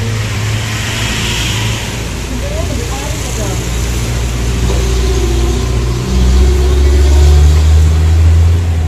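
Honda Vario 125 scooter engine idling steadily after an ECU and wiring repair, a low continuous hum close by that grows slightly louder near the end, with people talking over it.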